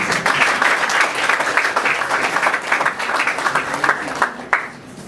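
Applause from an audience at an International Women's Day evening event in Bangalore, a dense steady clapping that carries for several seconds and then thins and fades toward the end.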